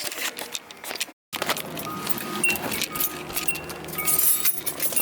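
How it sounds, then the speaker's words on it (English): A flat, flexible steel piece being handled gives continuous close metallic jangling and clinking with a brief silent gap, then rattles on more busily toward the end. "This is a flat, like steel piece. Pretty flexible."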